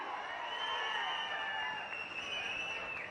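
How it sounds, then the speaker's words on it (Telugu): An audience at a political meeting applauds and cheers steadily, a dense wash of clapping and crowd noise with a few whoops throughout. "గట్టిగా చప్పట్లు కూడా చెప్పండి"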